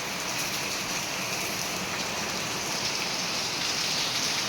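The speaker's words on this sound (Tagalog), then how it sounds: "Lakas ng ulan mga kalangga." Heavy rain pours steadily outdoors at a home in the Philippines, a dense, even hiss of drops on surfaces that stays loud and unbroken throughout, with no voices over it.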